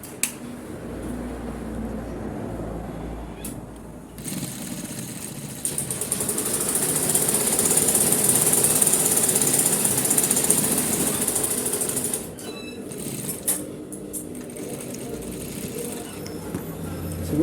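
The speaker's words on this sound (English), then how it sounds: "You place your machine and sew a 1/4 of an inch from this edge" A sewing machine stitches a double welt pocket on a suit, a continuous close motor whir and clatter that swells louder and brighter midway before settling back, steady with no pauses.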